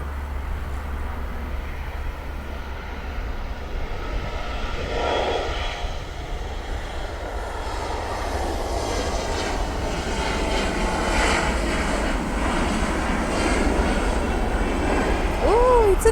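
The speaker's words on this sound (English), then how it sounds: "Alright, United is ready for takeoff." An airliner at LAX on a cloudy day takes off with a steady, rising jet engine roar under a low rumble of wind. The sound builds gradually and stays broad and fairly distant, and a voice talks faintly over it.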